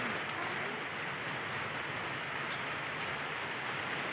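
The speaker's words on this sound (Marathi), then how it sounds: "हे बघा किती सारा पाऊस आहे" Heavy rain pours down at a hillside temple surrounded by forest in Palampur, Himachal, a dense, steady hiss of drops striking surfaces without a break.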